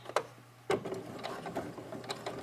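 A sewing machine stitches along the edge of a pleated fabric face mask, giving a close, steady mechanical whir after a sharp start, with busy clattering texture.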